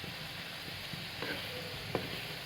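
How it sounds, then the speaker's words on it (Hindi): Turnip (shalgam) fries in a pan with a steady, close hiss and sizzle, broken by a few soft clicks and taps from stirring. No one speaks. "इसको हम इसी तरह से ऐसे पहले दरमियान में अच्छी तरह से हम इसे भून लेंगे।"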